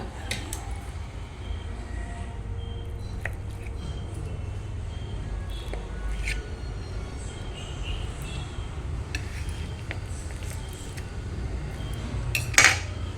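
Persimmon cake on a plate is cut with cutlery, giving faint scattered scrapes and light taps over a low background hum, ending in a brief sharper clink of metal on plate.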